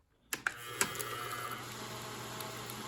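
A vintage Wards 809 Super 8 film projector switched to forward, opening with a few sharp clicks and clunks and then settling into a faint, steady mechanical whir.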